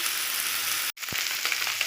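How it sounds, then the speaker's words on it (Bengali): Small chuno fish frying in hot oil, a steady broadband sizzle that runs close and continuous, broken by a brief silent cut near the middle and a soft low knock just after. "চুনো মাছটা এরকমভাবেই ভেজে নিতে হবে"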